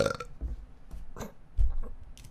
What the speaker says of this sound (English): I just burped in the microphone